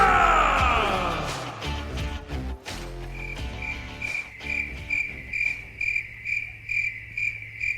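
Crickets chirp in a steady pulsing rhythm, with frog-like croaks mixed in, following a loud burst of music at the start that fades out.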